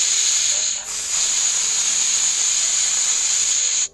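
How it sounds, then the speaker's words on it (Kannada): A pressure cooker cooking chow chow lets off steam in a loud, steady, shrill hiss with a whistling tone. It runs for about four seconds with only a brief dip near the start, then cuts off. "ಲಿಡ್ಡನ್ನು ಕ್ಲೋಸ್ ಮಾಡಿ ಇದು 1-2 ವಿಷಲ್ ಬರೋ ತನಕ"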